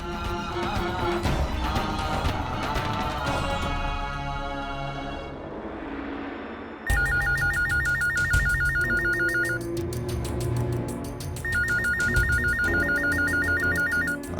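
A telephone rings in two bursts of repeated electronic trills over a dramatic music score, with no talk in between.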